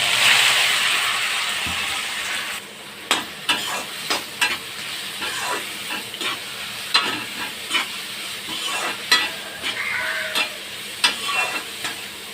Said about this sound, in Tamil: வெங்காயம் ஓரளவுக்கு வதங்கிச்சு